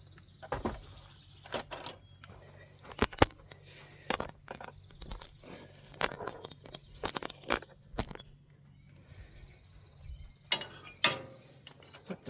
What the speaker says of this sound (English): I should be able to use a wrench.